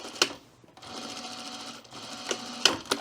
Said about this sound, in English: now we're gonna sew along this vent edge at our seam allowance